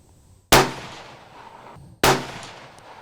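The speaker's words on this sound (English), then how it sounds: "First shot, and I'm just going to be single loading these guys." Two sharp, loud rifle shots ring out about a second and a half apart during riflescope sighting-in, each followed by a fading echo, with no talking.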